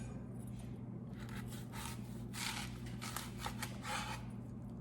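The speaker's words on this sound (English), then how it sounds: "You want to cut straight down the root." A kitchen knife slicing straight down through an onion from the root, heard as a few crisp, close cutting crunches over a low background hum.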